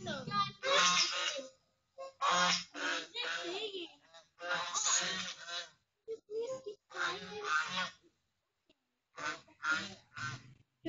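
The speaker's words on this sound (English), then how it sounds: "The ducks are noisy, guys, not you." Ducks and geese honk and quack in rapid, loud bursts close by, a raucous chorus broken by short pauses.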